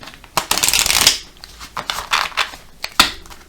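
Oracle cards are shuffled and cut by hand in quick rustling bursts, close and crisp, with short pauses between riffles.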